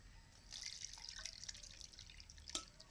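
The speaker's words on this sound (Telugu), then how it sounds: "ఇలా పూర్తిగా చల్లారిన తర్వాత వాటర్ని స్ట్రెయిన్ చేసుకుని" Water from boiled, cooled mango pieces is strained, giving a soft, steady trickle with faint drips and a brighter splash near the end, quiet and close with no speech.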